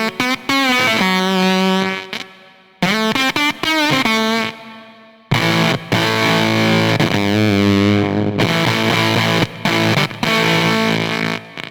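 Electric guitar played through a Cuvave Fuzz pedal starved by a weak battery, giving a loud, gated, sputtering fuzz: sustained distorted notes that cut off abruptly into silence between phrases.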